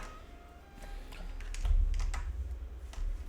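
Keys clatter on a computer keyboard in quick, uneven bursts of taps, close and moderately loud, with no voices.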